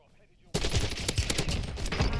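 Krig C rifle fire in Warzone bursts in suddenly after near silence, rapid loud automatic shots crackling continuously for almost two seconds.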